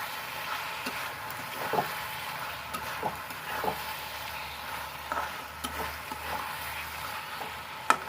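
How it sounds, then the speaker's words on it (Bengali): Water goes into fried masala in a pan for egg curry, giving a moderate continuous sizzle with intermittent stirring scrapes and small clicks throughout. "এবার আমি জল দিয়ে দেবো।"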